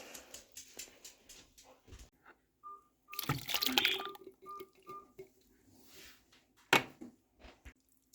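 Chili ingredients poured into a cooking pot in a home kitchen, a sudden close rush of sliding, splashing food lasting about a second, followed by softer knocks, scrapes and a later sharp clatter.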